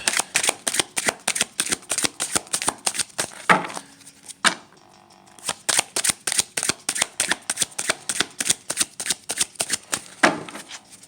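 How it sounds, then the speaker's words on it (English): Tarot cards being shuffled by hand, a rapid run of crisp riffling flicks close up, broken by brief pauses before the brisk shuffling resumes, with no talking. "Okay, universe, we need another card for Mark Meadows."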